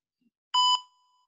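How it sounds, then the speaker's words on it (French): A workout timer bell gives a single bright, ringing tone during a home boxing fitness session, sounding loud and close and then fading out with a short tail, with no talk over it. "Il y aura 2 sonneries."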